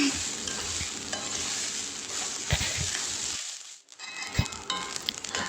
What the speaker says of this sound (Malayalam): പാത്രത്തിൻ്റെ എല്ലാ സൈഡിലും ആ ഒരു റൈസൊക്കെ ഒന്ന് വരണ പോലെ നന്നായിട്ടൊന്ന് ഇളക്കണം